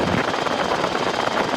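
A steady RotorWay helicopter drone with a constant engine roar and rotor noise fills the clip without pause. No voices.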